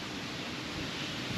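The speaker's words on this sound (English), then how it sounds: "Wish that wind had stopped blowing for half a minute." Wind blows outdoors at a solar pump installation site, a steady rushing, buffeting noise that stays broad and even throughout, with no voices.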